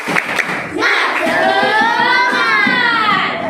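A group claps in a quick rhythm while children shout together in a long, drawn-out chant, loud and close.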